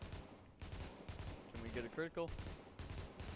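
Single shots from a custom P416 G3 assault rifle in The Division ring out at a steady, deliberate pace of about six sharp reports, with someone speaking briefly between them.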